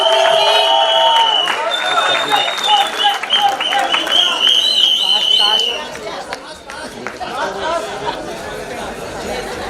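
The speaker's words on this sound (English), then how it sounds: "Can we clap once more for everyone who's there on stage" An audience claps for the people on stage at a celebrity promotional event, with steady applause mixed with crowd chatter and voices, thinning out toward the end.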